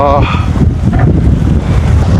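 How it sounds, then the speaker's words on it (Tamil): Strong wind gusting across a fishing village beach on the coast, a loud steady buffeting roar that fills the clip, with a brief faint voice near the start. "காற்று செம காற்று"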